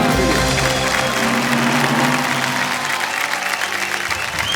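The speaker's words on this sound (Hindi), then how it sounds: "तालियां आपके लिए।" Studio audience on a televised quiz show claps steadily and loudly for several seconds, a dense continuous wash of hands with no talk over it.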